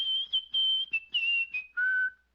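A woman whistles a short tune in a Rocky and Bullwinkle cartoon, a few clear, high, sustained notes in quick phrases, ending on a lower held tone, alone without talk.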